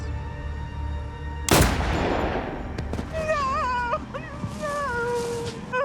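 A single loud, sudden gunshot in a murder reenactment, followed by a long decaying rumble and then drawn-out wailing, moaning cries.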